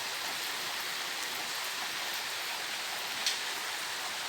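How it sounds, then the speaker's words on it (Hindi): The season's first rain falls steadily in a rural village yard, a dense, even hiss of drops with no talking, one faint tick near the end. "इस सीज़न की ये पहली बारिश है जो बहुत अच्छी है"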